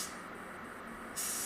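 3M Accuspray gun spraying Revealer Multi-Express filler primer, a steady airy hiss throughout that rises in level near the end.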